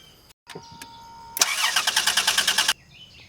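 Dodge Grand Caravan with a no-start fault and a shorted EGR valve, its starter cranking the engine in a quick even rhythm of about a dozen loud chugs for just over a second before stopping without catching; a faint tone precedes it.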